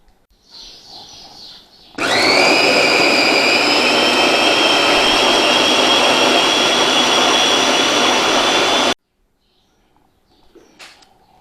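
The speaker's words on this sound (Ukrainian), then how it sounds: "Пюре будемо одержувати ось з допомогою такого блендера чаші." A countertop jug blender pureeing apricots roars to life, holding a loud, steady high-pitched motor whine for about seven seconds before cutting off abruptly.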